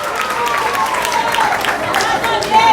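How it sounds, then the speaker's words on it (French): A school quiz competition audience at Génie Lycéen's 20th edition breaks into dense, continuous applause during a points announcement, loud and close, with voices and cheers mixed through the clapping. "Applaudissez-moi s'il vous plaît"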